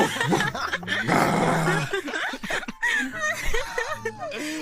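A man gives a playful dog-bark imitation between bouts of chatter and laughter, short growly vocal bursts mixed with chuckles and talk during a virtual reality game session.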